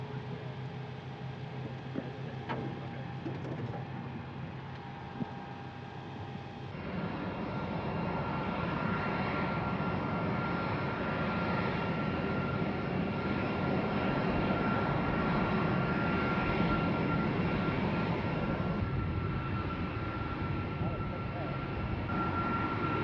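Steady broadband roar of a Boeing KC-135R Stratotanker's re-engined CFM56 jet engines at an air show, swelling louder after a few seconds and holding constant with a faint whine, while people talk over it.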